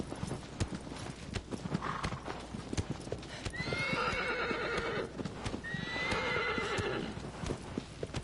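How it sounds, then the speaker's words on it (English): A horse in the video game Shadow of the Colossus gallops with a steady clip-clop of hooves and lets out two loud, drawn-out neighs, with faint talk in the background. "Faster, horsey, faster."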